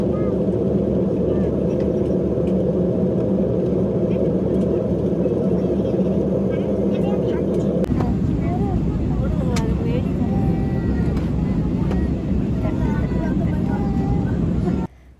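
Inside a plane cabin during flight, a loud, steady engine roar drones on without a break. Its tone shifts partway through, and the drone drops away at the very end.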